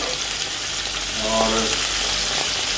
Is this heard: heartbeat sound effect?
no